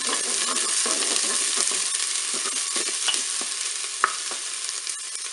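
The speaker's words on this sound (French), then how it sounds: "l'huile est chaude, je vais pouvoir mettre mes oignons, les faire dorer" Onions go into hot preheated oil in a Cookeo multicooker and fry with a loud, dense, continuous sizzling hiss, with faint stirring noises and one small tap.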